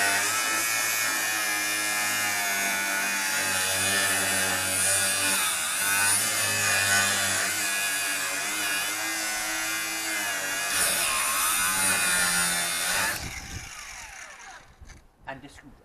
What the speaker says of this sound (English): It's a Milwaukee cordless angle grinder.